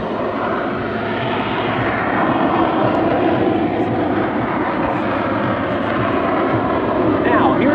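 Aerobatic airplane engine roaring steadily as the plane hovers nose-up at the Oshkosh AirVenture 2022 airshow, loud and continuous, with talk over it.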